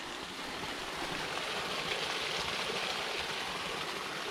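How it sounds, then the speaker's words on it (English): A steady, continuous rush of water flowing through a small culvert on a creek hiking trail, close and fairly loud, with no pauses or voices. "Water making its way over"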